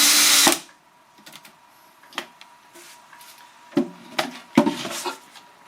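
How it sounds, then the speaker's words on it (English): Power drill driving screws into a wooden hive box: a loud burst at the start, then several short whirring bursts of varying strength separated by quiet gaps. "So I'm putting in just the corner screws first."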